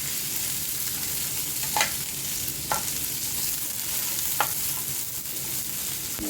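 Oil frying for sheer khurma in a home kitchen, a loud, steady, close hiss of sizzling with a few brief utensil clicks spaced through it.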